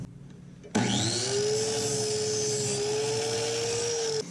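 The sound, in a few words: cutting a golf club shaft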